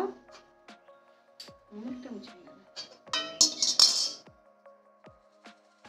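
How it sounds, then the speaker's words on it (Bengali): Close metallic clinks and rattles as a metal stand is set into a wok for baking a cake, several knocks in quick succession, loudest near the middle, with faint voices around them. "এই স্ট্যান্ডটি প্রথমে আমি কড়াইতে বসিয়ে দেব"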